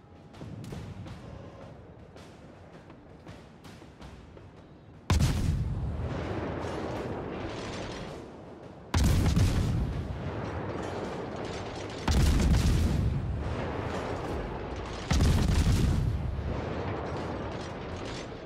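Naval guns fire at a target in the video game World of Warships, aboard the destroyer Gearing: four loud, sudden blasts at intervals of about three to four seconds, each fading into a long rumbling decay, with mechanical clatter at the start.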